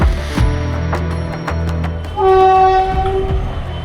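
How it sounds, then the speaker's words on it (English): A train rolls past right beside the track in an Indian city, with a loud sustained horn blast sounding close by over the rumble of the cars. "Where there's continuously trains passing by that are like honking."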